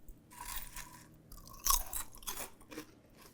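Homemade potato chips are bitten and chewed close up, giving sharp, brittle crunches in uneven bursts with one especially loud snap, in a quiet setting.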